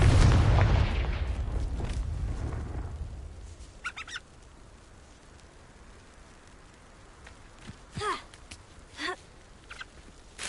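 A Confringo fire-blast spell in the game Hogwarts Legacy goes off with a loud, deep booming burst that rumbles and fades over about three seconds. Faint, sparse chirping sounds follow in the quiet afterward.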